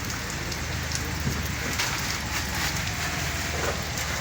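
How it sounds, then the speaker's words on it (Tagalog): Steady rain pours down at a fishing spot in Zamboanga City, a dense, even hiss of drops striking surfaces with no break and no talk. "Kaso umuulan."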